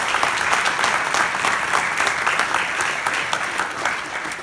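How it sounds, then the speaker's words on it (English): A crowd at a press conference applauds steadily, dense clapping holding at an even loud level for several seconds with no voices over it. "Let's give everyone a round of applause."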